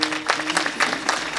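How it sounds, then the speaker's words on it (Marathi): An audience at a village gathering claps in a brief burst of applause, uneven clusters of hand claps, with a faint tone and a low voice in the background. "त्यांच्याकरता एकदा टाळ्या वाजवा बरं का."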